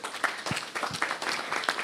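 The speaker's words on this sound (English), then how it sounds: "A small round of applause, please." Brief applause from a small audience at a crypto privacy panel, a couple of seconds of scattered, light clapping from a modest group, fairly close and without talk.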